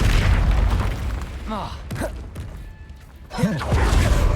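Confringo fire-blast spells burst with heavy booms and whooshes during Hogwarts Legacy combat, loud and close, alternating with brief spoken spell calls and a sigh-like vocal.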